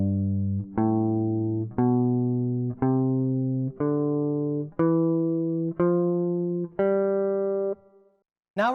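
Guitar plays a G Mixolydian scale one note at a time, eight clean sustained notes rising in an even, steady rhythm, each ringing alone until the next is plucked.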